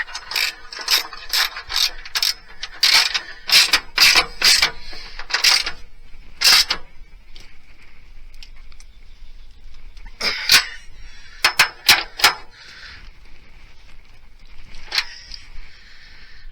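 A ratchet wrench tightens bolts on tie-down rails of a 2019 Ram truck, sounding as quick bursts of sharp clicking in several separate runs with pauses between, close and fairly loud, with no talking.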